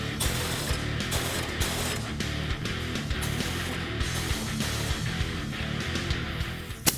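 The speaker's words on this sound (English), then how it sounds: "And tighten down the subframe bolts." Ratchet clicking as the subframe bolts are tightened on a 2015-2019 Mustang during a lowering spring install, a loud, dense, continuous run of rapid mechanical clicks close up, with no talking.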